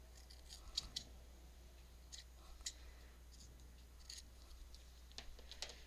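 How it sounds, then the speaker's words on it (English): Scissors trim a small paper tag for a junk journal, making a series of quiet crisp snips in short irregular clusters over a low steady hum, close by with no talking. "I'm going to have to trim this up just a little."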